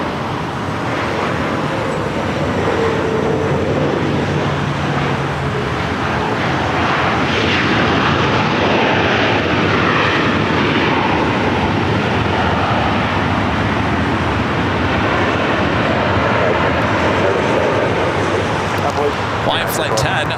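Airliner taking off from runway 7 left at LAX, a loud continuous broadband engine roar and rumble sustained throughout, heard from a distance in challenging weather with no speech.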